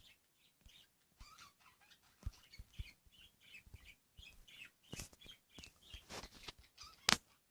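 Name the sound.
bird in a video game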